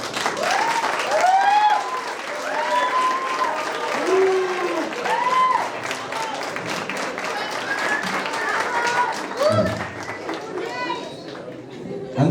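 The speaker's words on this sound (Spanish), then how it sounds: "Démosle un fuerte aplauso al profesor." An audience at an academic lecture applauds a professor, with steady clapping and crowd chatter throughout and voices speaking over it.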